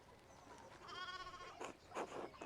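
Sheep bleat in the medieval-village video game Pentiment, a wavering quavering call followed by a few shorter bleats, faint and set against a quiet ambient background.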